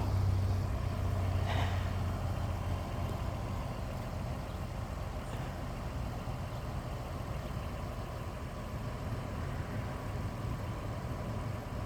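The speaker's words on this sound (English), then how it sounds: "His car keeps going off and on. You hear it?" A police car engine idles steadily at a low, even rumble, cutting out and restarting, heard from a short distance outdoors with no talk over it.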